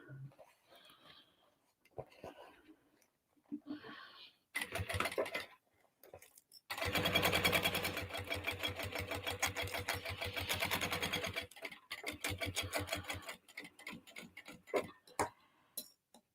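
Sewing machine stitching a quarter-inch seam on a fabric dolly bag: a steady rapid clatter runs for several seconds and then resumes in shorter bursts, with quiet talk heard before and between the runs.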